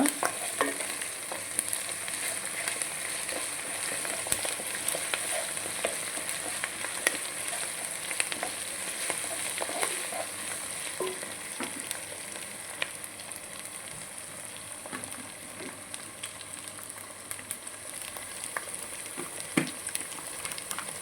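Ginger paste frying with curry leaves in oil for a Telangana dal curry, a quiet, continuous close sizzle with scattered crackles and pops and no talking.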